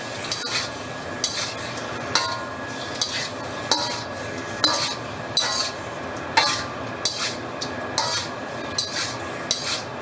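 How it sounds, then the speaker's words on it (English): Braised pork with black beans being stirred in a pan, with a steady scraping clatter and repeated sharp utensil clinks against the pan at a brisk, uneven rhythm, close and moderately loud, with no voices. "you want to stir this around until it gets brown"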